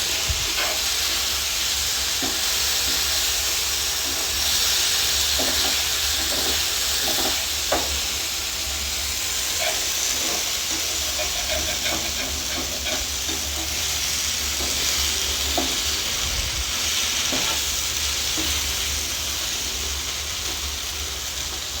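Fish and prawns fry in a pan, a loud, continuous hissing sizzle with occasional faint clinks and pops, heard close and alone for the whole stretch.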